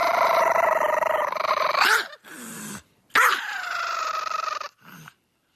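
A dog growls from a played-back recording: a rumbling snarl in two close, loud bursts separated by a short gap, each trailing off into a low whine.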